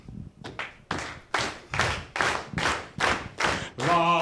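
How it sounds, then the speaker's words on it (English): An audience in a museum talk claps together in time with a stomping foot, about nine loud, evenly spaced claps with thuds, ending as a voice begins to sing. "you need to clap in time with my foot"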